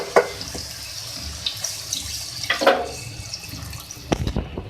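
Water is poured into a pot of mutton being cooked with spices, making a close running, splashing stream with short gurgles and a couple of sharper clinks near the end.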